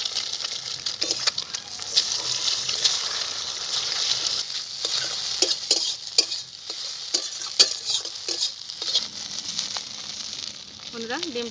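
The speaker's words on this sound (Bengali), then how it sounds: "ডিম দুটোকে আমি ভেজে নেব" Two eggs frying in a pan, a soft continuous sizzle and hiss with scattered clicks and scrapes of a utensil, faint and close, with a brief murmur near the end.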